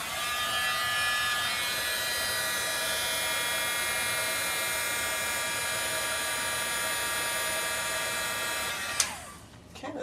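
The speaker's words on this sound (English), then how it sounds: "Bring in my heat tool." A craft heat tool blows hot air over a Stampin' Up! card-making project, a steady, loud electric whir held for about nine seconds before it cuts off abruptly and winds down.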